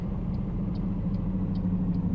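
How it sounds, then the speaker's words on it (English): An American Truck Simulator hauler truck engine-braking on a highway gives a steady, low, throbbing rumble. Faint regular ticks sit above it, with no voices. "Let's get a little engine brake in there."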